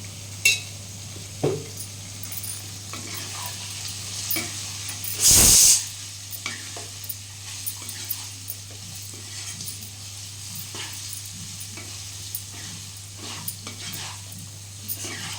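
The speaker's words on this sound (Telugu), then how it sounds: "ఇప్పుడు మనం వేగింది కదా కారం వేసుకుందాం" Chicken frying in a pan as chilli powder is added, with a low steady sizzle broken by repeated spoon scrapes and clinks against the pan and one brief loud burst of hissing midway, close by.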